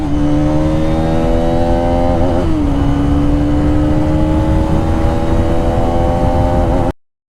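A Hero Karizma XMR 210 motorcycle engine drones continuously at high speed on an open road, with a brief dip and rise in pitch partway through, loud and close, before cutting off.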